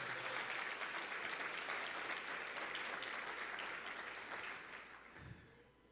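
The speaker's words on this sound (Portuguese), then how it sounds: "Pode aplaudir a Jesus." A church congregation applauds in steady, dense clapping that fills the room at a moderate distance, then gradually thins and fades toward the end.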